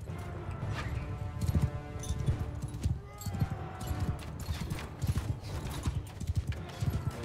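Rapid clip-clop of galloping horse hooves in a medieval battle video game runs steadily throughout, layered with battle clatter and busy game ambience.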